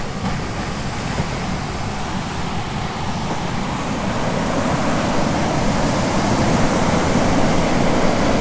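Ocean waves break steadily on the shore of Oahu's leeward side in Hawaii, a loud continuous wash of surf that swells slightly toward the end, with no voices.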